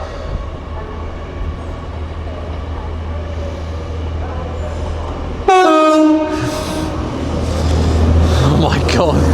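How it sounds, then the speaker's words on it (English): A Trans-Pennine Express Class 185 diesel train leaving York station for Manchester Piccadilly: a steady low engine drone, then a loud two-tone horn blast midway, followed by rising rumble as the train pulls away close by. "Also departing now is a Trans-Pennine Express Class 185 bound for Manchester Piccadilly."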